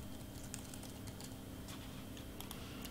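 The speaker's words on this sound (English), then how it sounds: "I'm gonna type in Hannah Berry Koo again." Faint keyboard typing, scattered soft clicks at an uneven pace over a steady low background hum.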